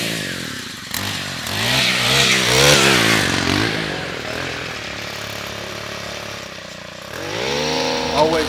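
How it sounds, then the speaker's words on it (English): A gas-powered lawn edger engine sputters into life after the pull cord, revving up loudly, dropping back to a rough idle, then revving again, close by. "we're going to prime the engine 3 times. Then we're going to pull the cord 3 times"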